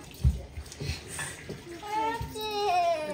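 Water runs into drinking glasses in a home bathroom, a faint splashing flow under small children's voices and whimpers, with a brief thump near the start.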